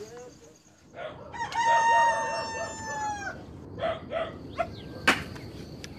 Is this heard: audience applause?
no